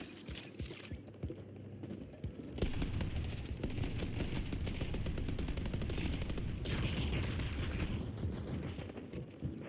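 Deployed automated turrets in a video game rattle off rapid, continuous bursts of gunfire, sharp repeated shots stacking into a dense sustained barrage that grows louder and steadier partway through.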